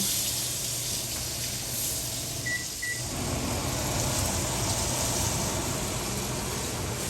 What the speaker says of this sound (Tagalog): So, prito natin si kamatis.